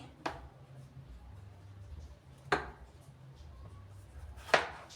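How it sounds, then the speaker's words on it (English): A knife cuts through tomatoes on a board, giving three sharp, well-spaced chops over a low, steady background hum. "I like cutting them into half, and then now I start slicing them"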